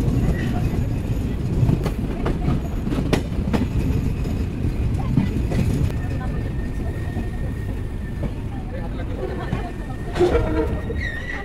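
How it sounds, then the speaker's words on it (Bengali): The Kapotaksha Express, running from Rajshahi to Khulna, rolls into Ishwardi Junction railway station with a steady, loud rumble of wagons and intermittent wheel clatter and screeches, while crowd chatter on the platform mixes in. "আমাদের ট্রেন প্রবেশ করছে ঈশ্বরদী জংশন রেলওয়ে স্টেশনে"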